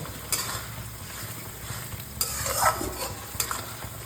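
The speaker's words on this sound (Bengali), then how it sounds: "আর দিয়ে দেবো একটা কুচনো টমেটো, আর দেবো 1/2 চামচ হলুদ। এটাকে এবার ভালোভাবে কষিয়ে নেব।" Chopped tomato and turmeric are cooked down with spices in a pan, giving a quiet sizzle with scraping stirring strokes and occasional utensil knocks against the pan, close and without speech.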